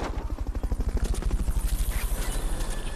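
Helicopter in Metal Gear Solid Peace Walker, a loud rhythmic rotor thumping with rapid regular pulses that steadily continue, close and dominant.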